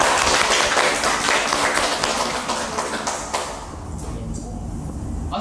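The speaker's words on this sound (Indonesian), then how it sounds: "Beri aplaus anak-anak." Children clap and applaud in a classroom at a university teaching session, a burst of dense clapping that gradually thins and fades over a few seconds.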